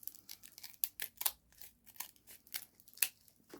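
Scissors cutting a Velcro dot out of a sheet: a quick run of crisp snips and papery crinkles, close and quiet, irregular in rhythm, with no talking.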